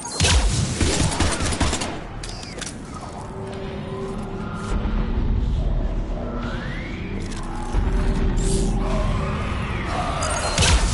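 Gunfire and combat noise in Mass Effect 3, heavy volleys at the start and end with a rumbling battle bed and whooshing effects in between.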